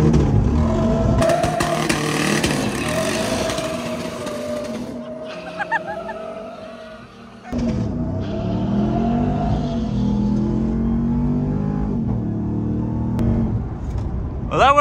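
A car being driven off-road, its engine droning and revving with rising and falling pitch, tires skidding at moments, under loud voices and gaming-style chatter.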